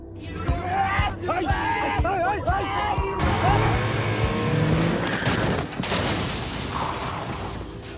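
Car crash scene from an action film, with revving engine, squealing tires and impact noise crowding a dense, loud soundtrack, while voices shout and talk over the chaos.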